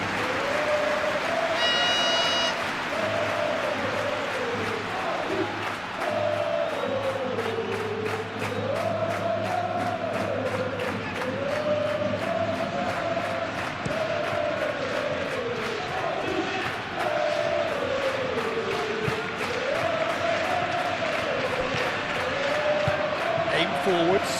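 A simulated football stadium crowd from a Real Madrid versus Getafe La Liga match in PES 21 roars steadily throughout, with chanting and broad cheering. A commentator's voice runs continuously over the din.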